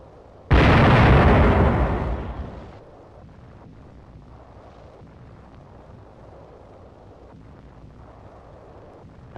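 A wartime artillery shell bursts on target in a loud, close blast that rumbles and fades over about two seconds, leaving faint wind-like background noise.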